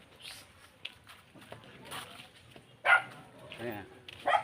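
A pet dog at Kuya Bong's house gives a few short barks, the loudest near the end, mixed in with people talking nearby.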